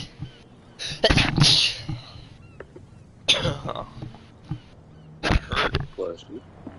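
Several sharp, bursting sneezes sound in a Call of Cthulhu video game scene, spaced a couple of seconds apart, with voices talking in between.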